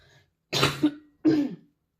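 Two harsh, close coughs from a woman with flu, about half a second apart, with no other sound around them.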